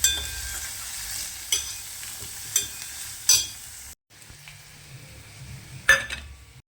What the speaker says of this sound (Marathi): डाळ पण चांगली परतून घेऊ.